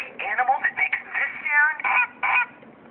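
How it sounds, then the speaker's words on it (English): A toy animal-sounds device plays a goose call: a series of bright, nasal honks in short bursts, loud and close, repeated about eight times, with no talking over it. "That's the goose."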